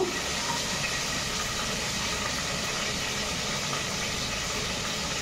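Onion pieces sizzling in hot tempering oil for gongura pappu, a dense, steady, loud frying hiss that holds evenly throughout with no talk.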